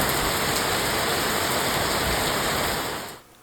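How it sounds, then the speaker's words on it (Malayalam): Steady rain pours down in a dense, even hiss, continuous and fairly loud, then cuts off abruptly near the end. "രാവിലെയൊക്കെ ഒരു മഴ പെയ്യുന്നത്"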